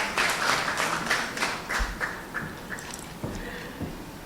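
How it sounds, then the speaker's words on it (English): An audience at a spoken word awards ceremony in Trinidad claps in a burst of loud hand claps that slowly thin out to scattered claps. "Mom, stand up and clap loudly now"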